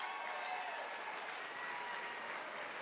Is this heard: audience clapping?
yes